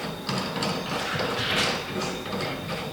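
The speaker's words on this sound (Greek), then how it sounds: "βιδώνουμε για να πιάσει αυτό το οποίο θέλουμε να πιάσει, το ξύλο παράδειγμα που έχουμε βάλει" A clamp on a Parkside PZKS 2000 B2 sliding compound mitre saw being screwed tight against a wooden workpiece, giving a quiet run of ratcheting, gear-like mechanical clicks with no voices.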